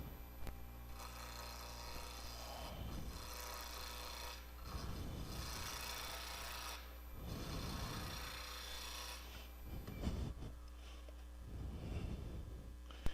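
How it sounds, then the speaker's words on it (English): A bowl gouge cuts and cleans up a turned wooden finial on a lathe, making repeated raspy scraping passes that swell every couple of seconds over the lathe's steady low motor hum, close and fairly quiet. "Then I'm gonna come back in with the bowl gouge and just clean up down in here."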